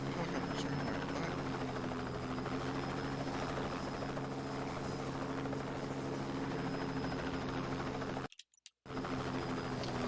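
Video-game helicopters whir continuously in a loud, close, even rotor drone with strong low hum tones, broken by a brief dead-silent gap near the end before the engine noise resumes.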